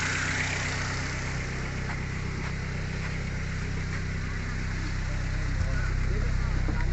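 Toyota Altis engine idling after an idle air control valve repair, a steady low hum with faint speech underneath.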